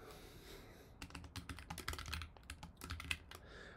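Quiet, close-up typing of code on a computer keyboard, a brisk irregular patter of soft key clicks and taps following a brief lull, with no talking.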